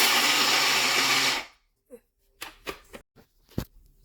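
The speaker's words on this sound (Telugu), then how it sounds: "కచ్చాపచ్చాగా మిక్సీ వేసుకొని నువ్వులు కూడా వేసుకొని ఒక తిప్పి తిప్పండి" A kitchen mixer grinder whirs loudly for about a second and a half while coarsely grinding almonds and sesame seeds, then cuts off abruptly, followed by a few short clicks and knocks in the quiet.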